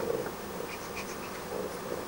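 Honeybees buzzing at an apiary hive in Pélissanne, a continuous faint hum with a few brighter passing buzzes, no one talking.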